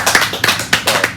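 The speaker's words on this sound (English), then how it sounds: "There's people clapping." Several people clap at once, giving a short burst of dense, fairly loud hand claps with a few stronger accents, heard alone without talk.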